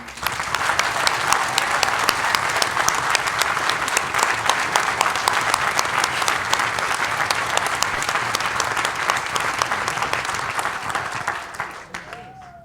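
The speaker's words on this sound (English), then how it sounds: "Let us give a round of applause to our professors, mentors, and the rest of the staff here." Sustained applause from a sizable commencement ceremony audience, loud and even throughout, tapering off at the very end.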